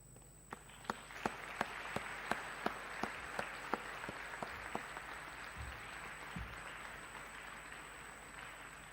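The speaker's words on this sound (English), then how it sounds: "I'd like to invite the parents and the faculty to join in giving a round of applause to all of them" Parents and faculty at a degree convocation ceremony applaud the graduating students, a faint, distant, sustained round of clapping in a large hall, with a few sharp louder claps standing out near the start.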